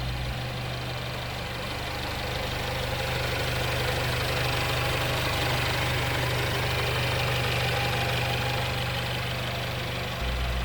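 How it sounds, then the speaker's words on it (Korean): A gasoline Mercedes-Benz E300 AMG Line (fifth-generation E-Class) engine idling steadily, a low even rumble with a faint rhythmic knock, close and continuous throughout with no voices. "가솔린의 정상적인 엔진 소리였고요"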